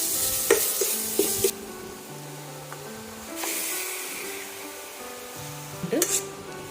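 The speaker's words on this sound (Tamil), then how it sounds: "அதுதான் கொத்துக்கறி வந்து கழுவி எடுத்து வச்சுருக்கேன். நான் இப்போ வந்து அதையும் ஆட் பண்ணிக்கிறேன்." Washed minced meat for kheema cutlets goes into a hot pan and is stirred, giving close sizzling and hissing bursts with scraping spoon strokes, and a voice speaks briefly in between.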